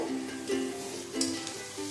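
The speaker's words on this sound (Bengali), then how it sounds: "রসুন বাটাটা দিয়ে আবার খানিকক্ষণ ভেজে নেব।" Garlic paste sizzling in hot oil in a pan with lightly browned onion, a steady bright frying crackle with soft stirring swells, close and fairly loud, no talk.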